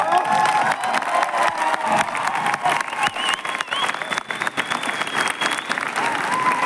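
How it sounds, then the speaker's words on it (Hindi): An audience at a Safe Shop event breaks into sustained applause mixed with cheering and whoops, a dense, loud wash of clapping that continues steadily throughout with scattered shouts and some voices in the crowd. "बस यही तालियां आपके लिए।"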